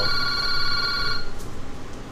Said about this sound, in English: We have a phone call, ladies and gentlemen.